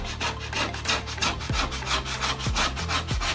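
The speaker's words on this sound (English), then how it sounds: "and then you're gonna use the scraper" Scraper pushed across a cool stove top to lift residue, a steady rasping scrape in repeated strokes, close and continuous with a few sharper knocks between passes.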